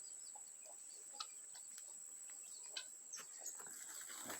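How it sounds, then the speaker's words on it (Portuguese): Small birds chirping outdoors, faint and distant, with scattered brief calls over a quiet background and a thin steady high tone. "Tem uns passarinhos aqui fazendo barulho."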